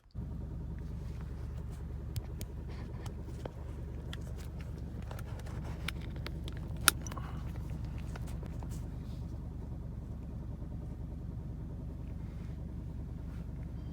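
An Alfa Romeo Giulia QV being driven gives a steady low engine rumble and road drone from inside the cabin, even and unchanging, with a few faint clicks and no speech.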